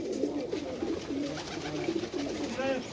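Pigeons kept by a pigeon-fancier for flying (kabootar bazi) coo in a steady, dense murmur close by, with a person talking over the birds.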